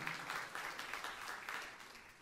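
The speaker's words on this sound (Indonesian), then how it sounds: "Tepuk tangan yang meriah untuk kemuliaan" Faint applause from a church congregation during a sermon: a soft, continuous spread of many hands clapping at a distance, slowly fading toward the end.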